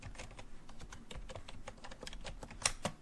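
Quick, irregular keystrokes on a computer keyboard while entering customer data into a database, close and clear with a couple of sharper clicks near the end.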